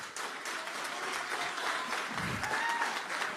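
Applause from an audience, dense and steady clapping throughout at a fairly even, moderate level, with no voices standing out.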